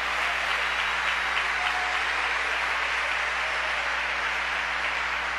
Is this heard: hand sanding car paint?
no